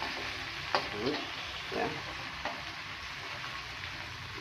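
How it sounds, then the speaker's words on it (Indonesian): Ground spice paste frying in a hot pan for fried rice, a steady close sizzle broken by a few scraping stirs, with a short spoken remark over it. "ini bumbu yang sudah kita haluskan tadi kita masukkan ke sini"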